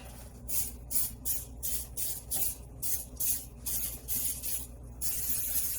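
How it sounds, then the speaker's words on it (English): Repeated short bursts of cooking spray hiss close up into a pan, about a dozen quick pumps in a row, then one longer continuous spray at the end. "You always want a really good spray in your pan"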